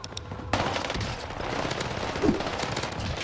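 Rapid automatic fire from an M4A1 assault rifle in the video game Warzone, a loud continuous rattle of shots starting after a brief lull and running to the end.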